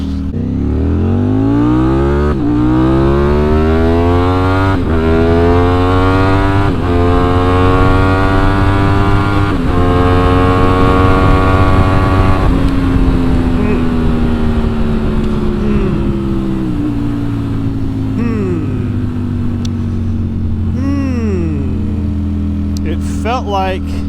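A Ducati Streetfighter V4S motorcycle engine under way while riding, loud and close, revving up through rising pitch and shifting gears over and over, with wind rush throughout and a rider talking over it.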